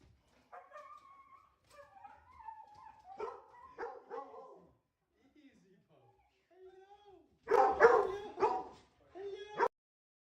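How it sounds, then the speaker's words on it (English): A small dog yips, whimpers and howls in excited greeting, in scattered short bursts that build to a loud, close outburst near the end. "my little dog happily greets him screaming"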